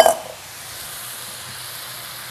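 Onions, garlic and fresh tomatoes frying in a pan, a steady close sizzle after a brief stirring clatter at the start.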